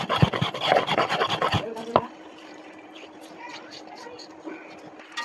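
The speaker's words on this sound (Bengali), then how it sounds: "আর আদাটা আমি একসঙ্গে বেটে নিব।" Fresh ginger and radhuni seeds are crushed together on a grinding stone, a burst of rapid rough scraping and knocking strokes up close for about two seconds, then quieter, sparser rubbing.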